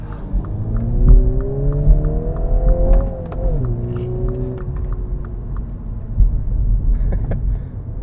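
A 2019 MINI Cooper S John Cooper Works accelerates hard as it rides over curbs, its engine note climbing through the revs and dropping at a gear change, with sharp thumps and knocks from the bumps and no talking.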